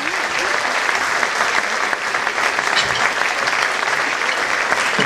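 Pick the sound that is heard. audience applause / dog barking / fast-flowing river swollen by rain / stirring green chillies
audience applause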